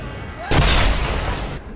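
A loud explosion bursts in the shooter video game Bulletstorm Remastered, a sudden heavy boom with a rumbling tail over a second long, following a brief lull of game noise.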